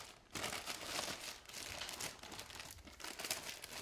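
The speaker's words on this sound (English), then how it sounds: "Need a plastic bag and an elastic band. And we're just going to pop that over the top of the pot." A plastic bag crinkles steadily as it is pulled over a seed pot, a close, continuous rustle lasting a few seconds with no talking.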